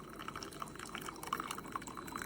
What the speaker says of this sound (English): It looks like a brew cycle takes about 2 minutes from pouring the water in